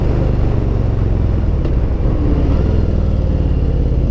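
A Harley-Davidson M8 Lowrider motorcycle accelerates in fifth gear from about 60 to 80, its engine giving a steady, loud, close rumbling drone with no break and no talking over it.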